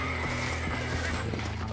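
A horse in the Red Dead Redemption video game neighs and whinnies over a steady, faint background of game ambience, with soft hoof sounds underneath and no talking.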